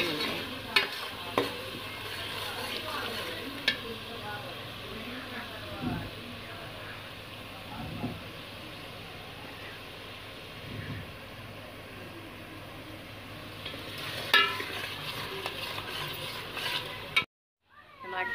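Masala of red chili and salt, with ginger and garlic, frying in a pan under steady stirring: a continuous sizzle with intermittent spoon scrapes and clinks, close and moderately loud, with faint background voices.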